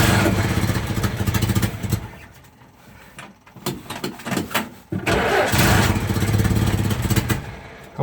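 A 1949 Jeep engine being cranked on a cold start with some choke, loud close churning and sputtering in uneven bursts that never settles into a steady idle.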